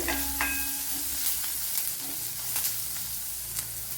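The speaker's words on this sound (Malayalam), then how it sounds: "ഇവിടെ ചുള്ളിയൊക്കെ വഴണ്ട് വന്നിട്ടുണ്ട്" Small onions sauté in a pan for a Thrissur-style pumpkin dish, giving a close, steady sizzle with soft crackles and a few scraping stirs.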